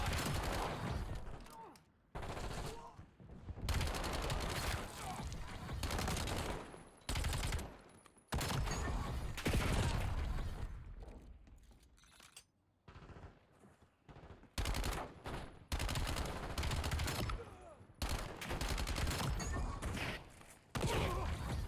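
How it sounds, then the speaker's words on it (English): Dense automatic gunfire in the video game Black Ops 7, loud sustained bursts repeating over and over with short pauses between them. "Why don't I stop shooting? Or start shooting immediately?"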